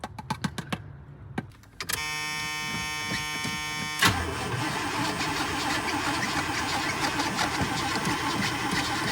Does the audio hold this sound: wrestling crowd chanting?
no